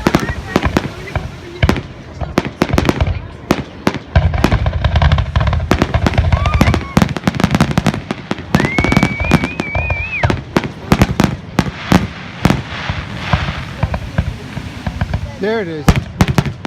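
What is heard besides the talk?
fireworks exploding at night at the beach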